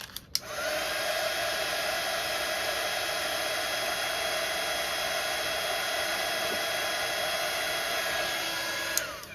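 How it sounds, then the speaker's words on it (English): A heat gun blows steadily for embossing, a close and constant whooshing roar that starts with a click, runs unbroken for about nine seconds, and cuts off at the end. "And then I use the heat gun."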